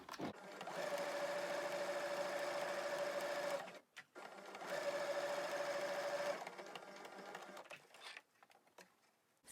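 A sewing machine running a straight stitch along the flap of a homemade fabric face mask, two steady whirring bursts of several seconds each separated by a short pause, close and alone, with some light handling after.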